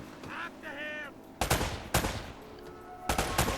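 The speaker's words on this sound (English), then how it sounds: "Those are warning shots." Gunshots in the video game Uncharted: Drake's Fortune, three loud bursts of rapid fire spaced about a second or more apart, with faint game sounds between them.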